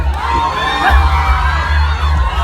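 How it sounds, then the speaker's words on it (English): Live audience cheering with whoops and shouted voices over a low rumble, a short burst of crowd noise with little distinct clapping. "Round of applause, Mean Queen, Slay Queer."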